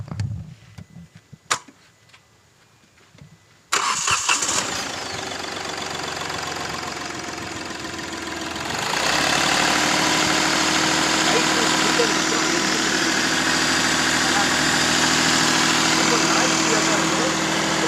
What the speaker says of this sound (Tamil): வாங்க, இன்ஜின் எப்படி ஸ்டார்ட் ஆகுது, அதோடைய நாய்ஸ் எப்படி இருக்குன்னு நம்ம பார்த்துருவோம்.